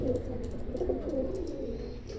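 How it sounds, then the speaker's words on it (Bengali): A purebred 128 number Teddy pigeon coos in low, wavering phrases over a steady background hum, close and moderately loud, with no voices. "এই যে কবুতরটি দেখছেন এটাও একশো আঠাশ নম্বর টেডি"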